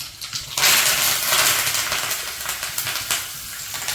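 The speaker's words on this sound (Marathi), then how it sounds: "कढीपत्त्याची फोडणी चांगली बसली पाहिजे" Mustard seeds, cumin, asafoetida and curry leaves hit hot oil for a tempering, giving a sudden loud, dense sizzle and crackle that swells and then holds steady, close up with no talking.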